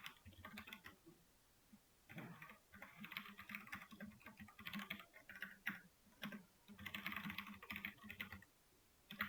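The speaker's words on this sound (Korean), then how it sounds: "제가 일부러 자동 완성 안 쓰고 순수 타이핑을 했거든요" Rapid bursts of typing on a computer keyboard, close and clear, with clustered key clicks separated by short pauses as code is entered.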